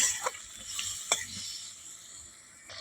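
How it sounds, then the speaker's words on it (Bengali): A spatula stirs chopped tomato in a sizzling pan for a Bengali bean, potato and eggplant chorchori, with a few soft scraping strokes over a quiet, steady frying hiss. "টমেটোটা খুন্তি দিয়ে একটু করে দিলাম নাড়াচাড়া করে নিলাম"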